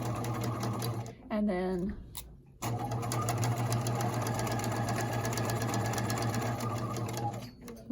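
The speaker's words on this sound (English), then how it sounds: "take a couple stitches, back stitch" A sewing machine stitches fabric in fast, steady mechanical bursts, stopping briefly while a voice speaks, then running on again up close.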